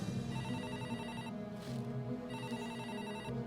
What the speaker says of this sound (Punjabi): ਮੇਰਾ ਫੋਨ ਆਇਆ, ਮੈਂ ਗੱਲ ਕਰਨਾ।